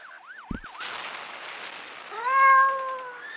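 A pet cat in the video game Sally Face gives a drawn-out, rising meow near the end. It follows a brief wavering tone and a soft thump in a quiet game scene.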